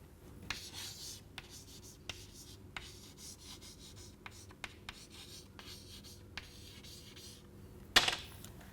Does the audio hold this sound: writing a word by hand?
yes